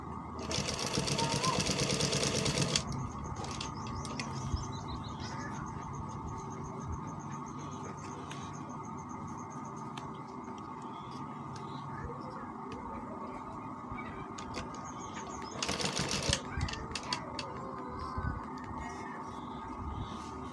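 A sewing machine stitches the collar of a kameez, running in a steady whir with louder bursts at the start and near the end, and a low voice talks over parts of it.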